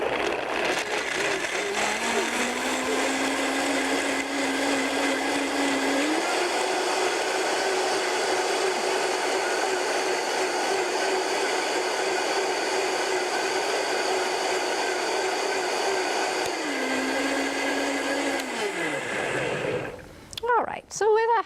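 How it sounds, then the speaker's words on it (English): A high-power blender whirs loud and steady for about twenty seconds while mixing gravy. Its pitch shifts slightly at times before it winds down and stops. "So with a high power blender, it doesn't take too long."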